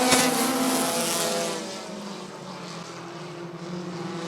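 Race car engines roaring at the green flag at Rockford Speedway, a dense loud drone of several cars, strongest at the start and easing slightly as the pack moves off.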